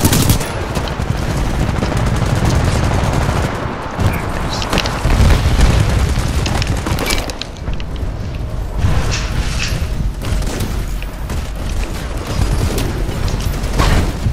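Rapid automatic gunfire and booming explosions from a Titanfall match crackle in dense, continuous bursts, loud and close throughout with no voices over them.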